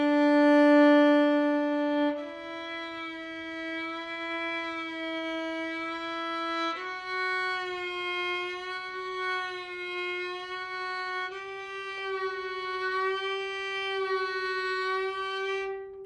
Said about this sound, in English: That was extremely slow vibrato